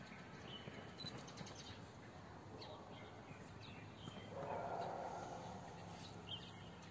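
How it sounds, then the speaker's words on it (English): Faint, distant birds chirp and twitter intermittently among magnolia trees in China, over a quiet outdoor background hiss. "Listen to the birds."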